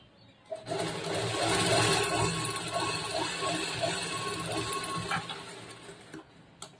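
A sewing machine stitches blouse fabric in one sustained run of about five seconds, a dense whirring drone with faint rhythmic ticking, starting abruptly and tapering off near the end, close up.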